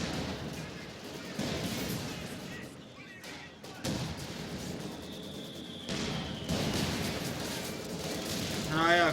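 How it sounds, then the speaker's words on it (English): Airstrike and gunfire in Company of Heroes 2 on a winter map, with dense rumbling blasts and crackling shots layered in a continuous battle din, sharp bursts punctuating it and a rising whine near the end. "I call in an airstrike"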